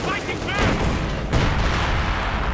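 Sturmpanzer artillery fire in Company of Heroes 2, a dense battle soundscape with heavy booming blasts and crackling gunfire, one sharp loud impact standing out near the middle, under a fast-talking commentator.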